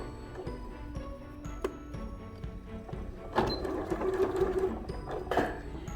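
A domestic sewing machine back-stitches and then runs forward along a seam on fabric for a jewelry pouch, its steady motor hum and needle clatter continuing close up, growing busier and louder partway through.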